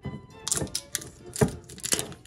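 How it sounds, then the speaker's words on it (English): Plastic wrap is peeled and torn off a Calypso lemonade bottle, close crinkling and sharp crackles in uneven bursts. "We'll get this plastic stuff off."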